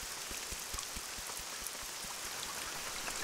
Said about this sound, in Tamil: மழை வேற அதிகமா பெய்யுது